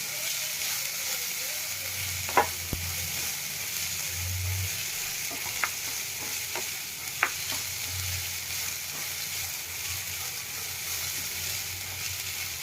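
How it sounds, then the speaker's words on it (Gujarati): Mung sprouts frying with browned garlic in a pan over a low flame, a soft, steady sizzle throughout, with a few sharp clicks and stirring knocks scattered on top. "આપણું લસણ થોડું બ્રાઉન થાય એટલે આપણે એમાં મગ એડ કરી દેશું"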